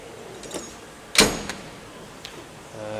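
A toolbox drawer slides open in a quick, near metallic rasp of about a second, followed by a few softer clicks and rattles.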